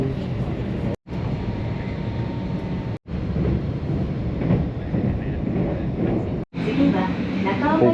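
Steady rumble of a Tokyo train ride with rail clatter running throughout, broken by a few brief silent cuts, while people talk nearby.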